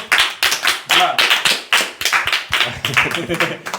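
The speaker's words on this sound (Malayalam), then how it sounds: "കൈയടിക്കൂ കൈയടിക്കൂ" A group of people clapping hands together at home, celebrating the arrival of a silver play button award; a steady round of close, lively applause with bursts of sharp, overlapping claps throughout.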